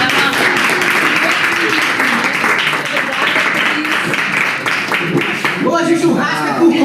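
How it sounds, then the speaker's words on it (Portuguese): An audience applauds at a community gathering, with continuous clapping at moderate loudness and voices talking over it toward the end. "Eu queria, então, que todo mundo pudesse agradecer a Cris também com uma salva de palmas."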